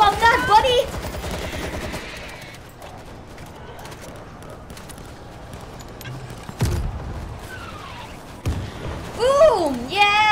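Gunfire against zombie hordes in the video game World War Z: bursts of rapid shots and sharp cracks come and go over a game soundtrack, with people talking excitedly in between.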